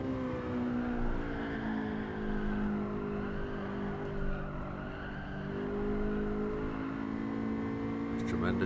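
A race car engine in a racing video game time trial, revving out at high pitch with a steady sustained whine that rises and falls slightly, loud and continuous with some tire squeal.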